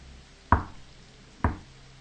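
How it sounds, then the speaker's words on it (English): Two sharp knocks on a door land about a second apart, each a short, dull thud with a quick decay, over a quiet background and no talk. "The knocking repeated, more insistent this time."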